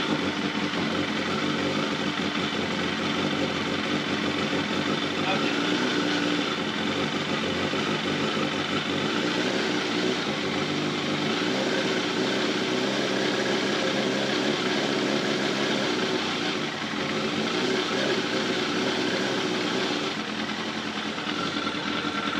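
A Yamaha FZR600 motorcycle engine with a rattle fault idles steadily and evenly for the whole stretch, a constant close mechanical drone with no talk over it.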